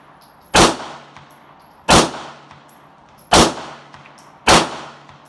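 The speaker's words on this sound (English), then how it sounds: "Ironically, I'm shooting low." Four sharp pistol shots from a Beretta fired at a shooting bench, evenly spaced about a second apart, each a loud, close crack with a brief ringing decay.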